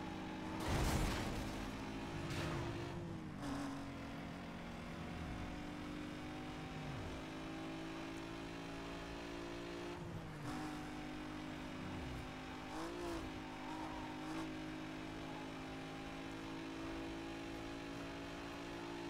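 A racing car's engine in Need for Speed: Most Wanted from 2005, with a 3.8-liter V6 like a fourth-generation Eclipse, revs hard. Its pitch rises and drops through gear shifts in a sustained, fairly quiet drone.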